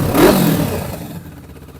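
Kawasaki Ninja Z650, a 650cc two-cylinder naked motorcycle fitted with a Scorpion exhaust, gives one loud close rev that swells quickly and then fades, with no talking.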